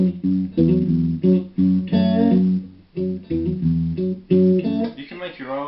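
Two notes picked together on a guitar and bent upward, repeated in short phrases in a fingerpicked blues style, close and clear with no talk.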